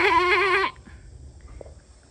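A sheep gives one loud, wavering bleat up close for just under a second, followed by quiet outdoor background.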